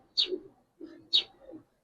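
A Gribaz Military khaki pigeon gives two short close calls, each a sharp high note followed by a low throaty coo, separated by a brief pause.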